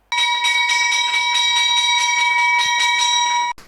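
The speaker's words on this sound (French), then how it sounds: "la cloche résonne pour la première fois en 2023 à la BRVM" A ceremonial bell rung rapidly and loudly to open trading at the BRVM regional stock exchange listing ceremony, a fast even series of about a dozen ringing strikes that stops abruptly after three and a half seconds.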